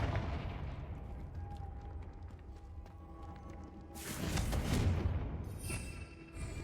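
Confringo fire spell blasts in the Hogwarts Legacy video game: a steady rumbling background gives way to a loud, broad burst of explosive noise that swells and fades, followed by a smaller crackling hit.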